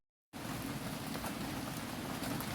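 Steady rain falls outside beside a rice field during the rainy season, a dense, continuous hiss of drops that starts abruptly after a brief silence and holds at an even, fairly close level with no voices.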